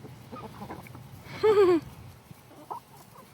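A single short burst of hen-like clucking rises briefly over a quiet outdoor background with faint scattered noises.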